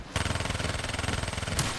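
Rapid automatic fire from the Vesper submachine gun in the Black Ops 3 zombies mode Shadows of Evil, a loud, fast, steady stream of shots with no pauses for nearly two seconds.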